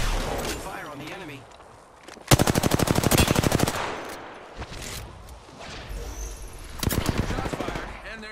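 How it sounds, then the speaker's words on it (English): Rapid automatic gunfire from a first-person shooter video game, loud bursts of fire alternating with quieter stretches of game sounds and a voice speaking underneath. "Open fire on the enemy."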